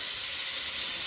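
A steady, bright hiss and crackle of steak sizzling in a hot pan, constant and close.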